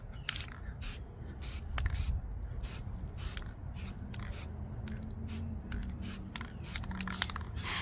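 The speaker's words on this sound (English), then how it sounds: "doing immediate light coats." Repeated short bursts of Rust-Oleum aerosol spray paint applied in light coats, a dozen or so quick hisses in an irregular rhythm, close and fairly loud over a low background rumble.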